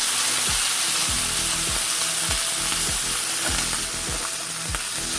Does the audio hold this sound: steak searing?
yes